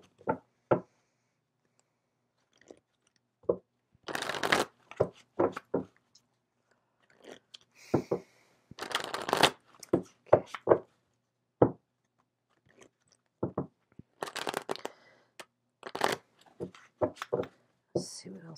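Love and romance angel cards shuffled in short, crisp bursts of papery flicks and snaps, scattered with brief pauses, close and moderately loud.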